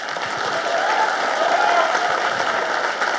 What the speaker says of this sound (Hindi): मैं चाहूँगा कि जोरदार इनके लिए तालियां बजाए।